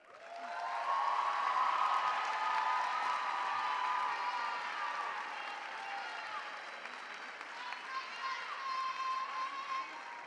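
Steady audience applause at a college commencement ceremony honoring a student speaker, a sustained crowd of clapping that rises quickly and holds at an even level, with faint tonal music underneath and a few scattered voices.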